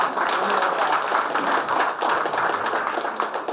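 An audience at a village Kannada association function for Labour Day and Environment Day breaks into loud, sustained clapping, dense and even throughout.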